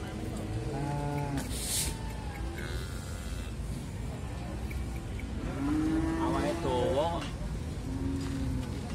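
Cattle ready for slaughter at the Muntilan animal market in Magelang, with a low moo rising briefly through a busy, noisy crowd; people talk throughout.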